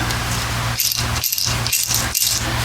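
Worn bearings from a 1974 Johnson 25 hp outboard motor rattle and grind in repeated bursts, about four gritty pulses over a couple of seconds, up close over a constant low hum.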